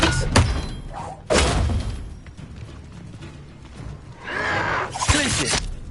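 A spell-casting effect from the Hogwarts video game bursts out in loud, close impacts, with sharp shattering cracks and heavy thuds followed by swelling magical whooshes and rumbling mechanical textures.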